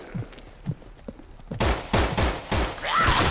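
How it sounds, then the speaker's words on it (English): Bursts of video game gunfire blast at zombies in No More Room in Hell, several loud close shots in quick succession after quieter muffled thumps and a brief voice. "Shooting at zombies, not the pavement."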